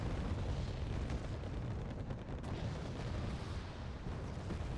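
Continuous rumbling artillery fire in Wargame Red Dragon, a dense, steady low barrage of booms blending into one roar, loud and unbroken with no voices.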